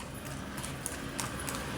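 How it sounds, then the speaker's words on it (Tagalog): Horse hooves clip-clop faintly on pavement near Manila Bay as a horse arrives, a few light irregular knocks under a steady wash of outdoor noise. "May kabayo pang dumarating, no?"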